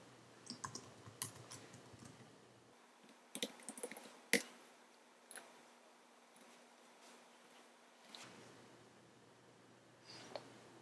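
Keys on a computer keyboard click in short scattered bursts with pauses between, close and fairly quiet, as a title is entered in a graphics program.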